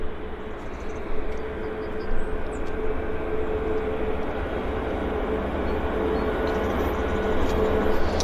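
Steady broadband roar of an airliner inbound from Toronto landing at Vancouver International Airport (YVR), a sustained engine rumble that holds level throughout, heard from a distance outdoors with no talk.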